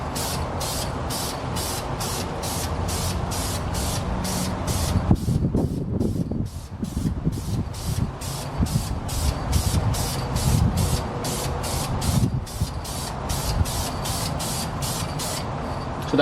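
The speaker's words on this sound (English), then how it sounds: "So that's my horizontal spray." An aerosol can sprays wrinkle paint onto a part for a 9th-generation Honda Civic Si in rapid, evenly spaced horizontal bursts, a close hissing rhythm continuing throughout over some handling noise.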